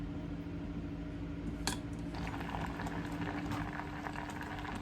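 Radish simmers in broth with garlic, a steady soft bubbling and sizzling at low volume, with a brief clink partway through.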